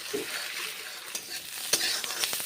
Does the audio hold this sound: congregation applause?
no